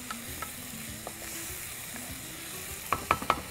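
Tomatoes and ground garlic sautéed and stirred in a pan for a thick Tamil-style thokku, a soft steady sizzle with light stirring scrapes and a few louder clinks of the utensil near the end.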